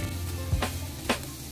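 Onion, chili and bell pepper stir-fry in a pan with a steady close sizzle, broken by two brief louder bursts of frying as the mix is tossed and stirred.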